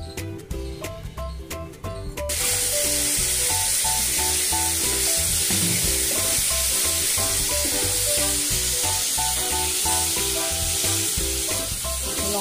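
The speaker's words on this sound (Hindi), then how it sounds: "एक को ऐसे ऐसे हिलाने से पूरा चारों तरफ से उसका फ्राई हो जाता है।" Boiled eggs fry in mustard oil while being stirred, starting with some clattering before a loud, dense, close sizzle takes over and runs steadily to the end, with no talking.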